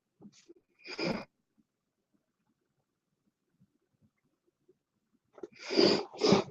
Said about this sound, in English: I apologize for the nose sniffles.